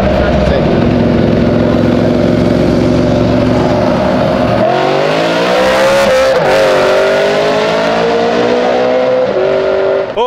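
A naturally aspirated BMW M3 V8 accelerates hard, a loud, sustained engine roar climbing in pitch through successive gears with a brief shift dip, heard close and dominating throughout.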